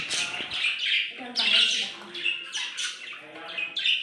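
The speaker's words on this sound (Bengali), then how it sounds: "তো চলো, ওদের কিচিরমিচিরটা একটু তোমাদেরকে শোনাই" Pet birds chirp and squawk close by in steady overlapping bursts, with some voice-like calls mixed in.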